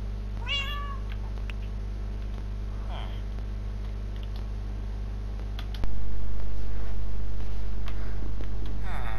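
A cat in the video game Pokecraft gives a short meow early on, followed by a fainter mew, over a constant low electrical hum that jumps louder partway through.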